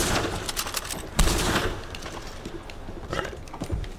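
Gunfire in the Western video game Red Dead Online during a snowy Christmas update: a sharp, loud shot stands out midway, with further scattered bursts and cracks that come and go over a busy game background.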